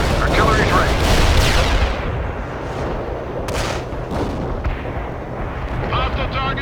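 Artillery fire in the strategy game World in Conflict: heavy booming shells and explosions roll out loud and close, overlapping with scattered gunfire while game voices speak under the barrage.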